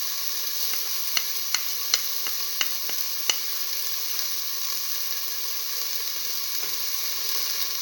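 Eggplant and split mung beans fry in a pan with a soft, steady sizzle while a spoon stirs in salt, giving several sharp clinks against the pan early on.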